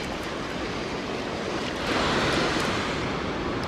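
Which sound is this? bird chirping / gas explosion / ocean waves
ocean waves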